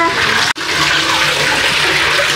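Water runs and splashes steadily while someone is bathed, broken by one brief dropout, with a continuous rushing wash filling the clip close by.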